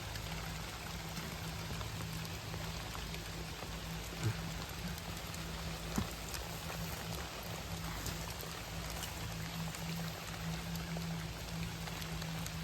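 Steady rain falls outdoors on a mushroom-digging trip, a dense, even hiss of drops on surfaces throughout, with a couple of faint knocks and no speech.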